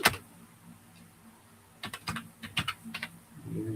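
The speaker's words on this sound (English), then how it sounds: "let's type into it" Typing on a computer keyboard at close range: a quick burst of several sharp key clicks, then pauses, then a faster irregular run of keystrokes, with no one talking.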